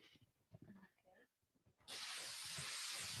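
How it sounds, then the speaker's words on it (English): An aerosol can of hairspray sprayed toward a stage light: after a moment of talk, a loud, continuous close hiss starts and holds steady to the end. "I'm gonna spray this in front of the light back there"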